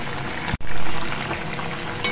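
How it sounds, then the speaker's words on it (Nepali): Chicken pieces for pickle frying in hot oil, a loud, dense, continuous sizzle with a brief break near the start. "अनि यसै तेलमा चाहिँ म फेरि चिकनलाई फ्राई गर्नेछु।"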